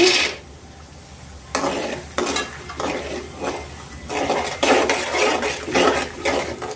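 Mustard seeds and chana dal drop into hot oil in a pan for mango pulihora, giving bursts of crackling and clattering that rise and fall close by over several seconds, with no voices.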